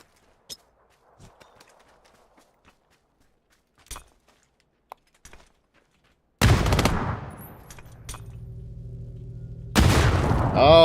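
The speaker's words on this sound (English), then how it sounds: "the frag grenade got me from behind me" In the PUBG video game, a frag grenade goes off with a sudden loud blast after quiet scattered clicks and thuds, followed by a lingering roar and then a second heavy burst near the end.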